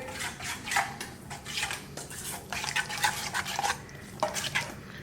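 A spoon stirs and scrapes through freshly chopped chimichurri and salsa criolla in a bowl, giving repeated wet, clinking strokes in a steady rhythm, close and moderately loud, with no voices.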